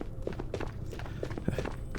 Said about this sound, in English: I still hear footsteps